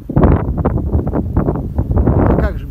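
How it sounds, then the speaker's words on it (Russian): A blizzard's strong wind buffets the microphone outdoors at a farm with a loud, continuous rumbling roar that gusts unevenly throughout. "На улице жуткий ветер, там вот прям вот буран, пурга."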